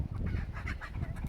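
A silkie-type hen gives soft, low clucks up close, a brief quiet murmur of a few calls.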